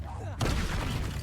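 In a Harry Potter video game, a wizard casts the Incendio fire spell with a sudden whooshing burst of flame. It erupts loudly and roars on.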